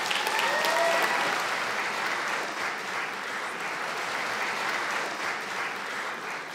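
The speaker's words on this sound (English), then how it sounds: "Let's have a full round of applause for this group graduating." A graduation ceremony audience gives a full round of applause for a graduating group, a dense, steady wash of many hands clapping that holds loud and even throughout, with a faint whistle near the start.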